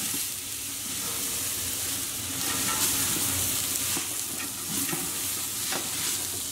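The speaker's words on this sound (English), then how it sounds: "we'll start by adding in about 3 tablespoons of oil. And we'll add our onions and celery straight in." Onions and celery fry in about three tablespoons of oil in a pot for Moroccan harira soup, making a continuous close sizzle with stirring clatter throughout, steady and fairly loud, with no talking.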